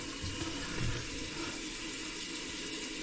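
Water runs steadily from a newly installed bathroom sink faucet, switched between hot and cold, a soft, even splashing stream heard close and quiet with no talk.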